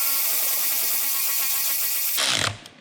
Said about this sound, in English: I like to run them down with some sort of electric ratchet